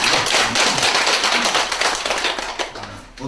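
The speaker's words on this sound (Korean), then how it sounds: "우리 스스로를 위해서 박수 한번 드리겠습니다." A class at a Buddhist temple college breaks into applause, many hands clapping in a dense, steady burst that fills the room, thinning out toward the end.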